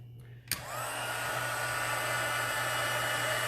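A heat tool clicks on and runs with a steady, close, whooshing blower roar while melting embossing powder for a card, continuing unbroken with no voices.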